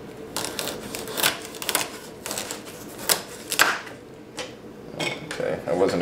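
A kitchen knife chops carrots on a cutting board while preparing them for a Black and Decker juicer, giving a run of close, sharp thuds and cuts at an irregular pace with a little background noise.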